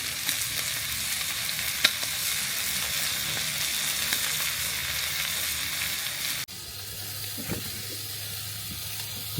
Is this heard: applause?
no